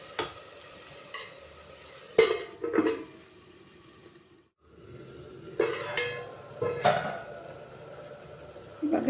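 Tomato bath mixture sizzling and frying in a pan as a spoon stirs it, with scraping strokes around 2, 3, 6 and 7 seconds over a steady close sizzle that briefly drops out midway.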